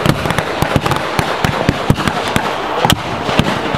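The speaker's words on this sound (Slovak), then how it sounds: "opäť tam nastane boj zblízka, pália samopalmi do strelní" Battle reenactment at a World War II style bunker assault: rapid, loud submachine gun bursts crackle nearly continuously, with sharp blank shots close by and blasts from explosive charges mixed in.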